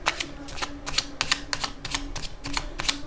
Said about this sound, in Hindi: अब मैं आपके लिए एक फाइनल कार्ड निकालना चाहूँगी।